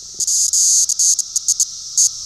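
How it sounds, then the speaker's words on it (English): Periodical cicadas singing close and loud, a shrill buzzing chorus pulsing in uneven bursts of varying length. "For many people, the song of the cicada is a discordant annoyance."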